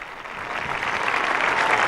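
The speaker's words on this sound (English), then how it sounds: "now applauding" Audience of university students gives a sustained, dense ovation in a large hall, the applause steady and slightly building.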